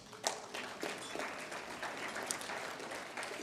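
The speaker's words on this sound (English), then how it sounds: "Please give yourself a round of applause." At a Bahamas Diaspora Awards gala, an audience applauds in a quiet, even wash of clapping with a few sharper claps standing out.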